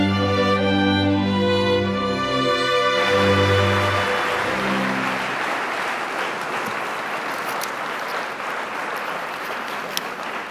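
An audience applauds an honoree at the 2019 Spark of Hope awards event, a broad, steady wash of clapping that rises as the music underneath fades and then continues alone for several seconds.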